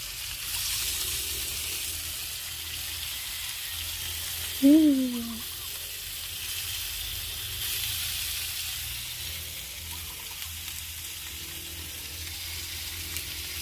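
Pork belly grills outdoors over a fire, giving a steady, moderate sizzle and hiss throughout, with one brief louder crackle partway through and no talk.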